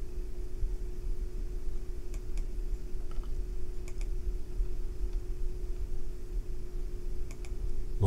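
A computer mouse clicks a few times in quick pairs, faint, sharp ticks scattered over a constant low electrical hum.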